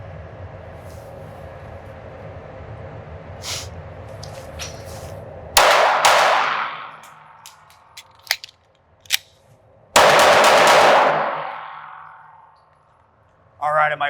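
Pistol shots from a Ruger RXM during target practice, several sharp reports: two loud blasts with long ringing decay and a few quicker, fainter cracks in between, over a steady low background hum.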